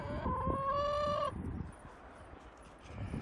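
A hen lets out a loud drawn-out cackle up close, followed by softer murmuring clucks and scratching movement in the backyard coop.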